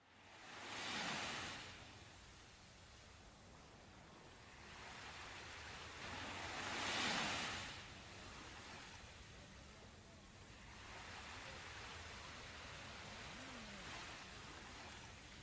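Sea waves wash onto the shore in a calm seaside setting, three broad surges swelling and receding at a slow, even rhythm over a constant soft wash of surf.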